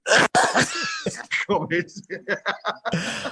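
A brief throaty cough bursts out at the start, followed by a stretch of conversational speech with light chuckling.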